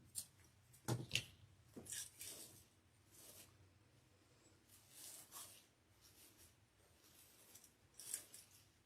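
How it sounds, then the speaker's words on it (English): Scissors snipping leopard-print deco mesh on a Valentine's wreath, several quiet crisp cuts in irregular bursts with soft rustling of the mesh between them, no voices. "this is a little bit too tall, so I am going to cut this down"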